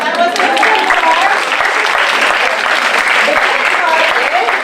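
An audience at a young-learner teaching workshop in Athens claps in a full, steady burst, with voices talking over it.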